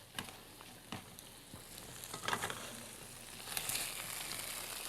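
A pan of food with ground sage sizzles and fries steadily while being stirred, with scraping stir strokes and bursts of crackle rising near the end.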